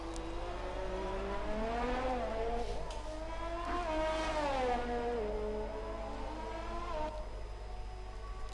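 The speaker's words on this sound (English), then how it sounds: "Quite satisfying to just see an F1 car go round and round." A Formula 1 car from a racing video game lapping the fast Netherlands circuit, its high engine whine rising and falling steadily through gear changes, continuous and alone at moderate level.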